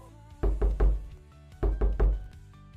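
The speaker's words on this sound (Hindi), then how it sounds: "तो अचानक दरवाजे पर जोर से चोट पड़ी।" Sudden heavy blows land on a door as a story sound effect: two sets of three loud, booming thuds, close and forceful, separated by a brief pause.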